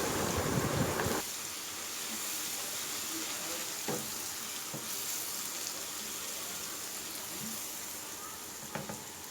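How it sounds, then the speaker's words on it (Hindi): Garlic ginger paste frying in oil with onion and cumin sizzles steadily and loudly for the whole stretch, with occasional stirring scrapes and no talk over it. "बस इसको अच्छे से प्याज और जीरे के साथ में भूनना है।"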